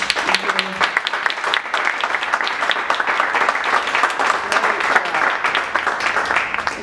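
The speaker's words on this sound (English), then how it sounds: "So how about a round of applause?" Audience applause at a Startup Grind Kalamazoo talk, a sustained, moderately loud patter of many hands clapping from a room full of people, with some murmuring voices mixed in.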